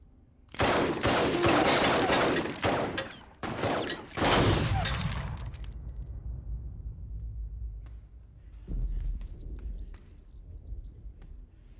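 Rapid handgun fire from a film set in the Underworld vampire-and-werewolf world, a dense burst of many shots over several seconds, loud and close, then a brief second volley, followed by a hum and faint mechanical clicks.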